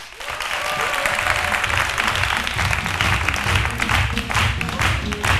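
A studio audience on a midday television talk show applauds as a guest is welcomed, a loud sustained wash of clapping from a crowd, dense and even, with faint voices mixed in.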